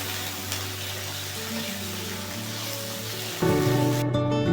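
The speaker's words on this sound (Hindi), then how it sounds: "अब अच्छी तरह चिकन को फ्राई कर लूँगी।" About half a kilo of chicken frying in a pan, a steady sizzle and bubbling hiss joined by tonal background sounds near the end.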